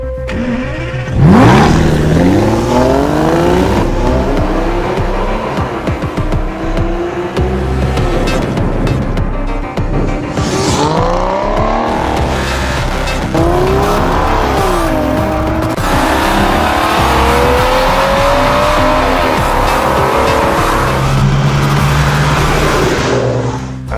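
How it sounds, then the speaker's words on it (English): Aston Martin DB9 engine firing up and revving hard, with repeated loud rising and falling sweeps of engine note over roughly twenty seconds, close and alone with no voices. "There is nothing like the sound of a DB9 when you first fire the engine."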